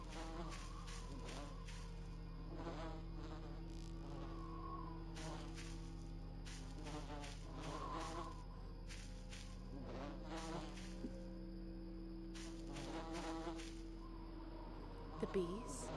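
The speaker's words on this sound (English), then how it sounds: "Why we have flies? Isn't hearing flies not good?" Flies buzzing in Voices of the Void, a faint drifting hum repeatedly rising and falling under other scattered game noises, with quieter sounds in between bursts and no voice over it.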